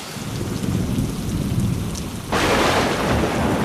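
A thunderstorm sound effect: steady rain pours, then a loud crack of thunder brings a sudden, much heavier roar of downpour that carries on to the end.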